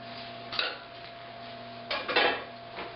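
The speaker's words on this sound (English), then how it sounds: "I'm just going to stir everything together." Mushrooms, onions, asparagus and pasta stirred together in a pan, heard as a few close utensil scrapes and clinks against the pan over a low steady background hum, with a cluster of clatters late on.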